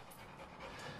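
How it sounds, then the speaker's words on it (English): A rescue dog pants softly and quickly, faint and close, with no other sounds over it. "this is the rescue dog, Rover."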